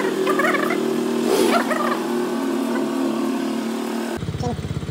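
Motorcycle engine idling and running steadily nearby during a riding lesson, a constant low rumble with a slight rev rise early on, and a brief change in tone near the end.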